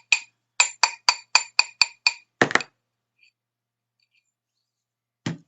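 Eight quick, bright metallic taps ring out one after another as a chasing hammer strikes a fine silver hoop on a steel ring mandrel, followed by a duller knock and, after silence, one more soft clunk.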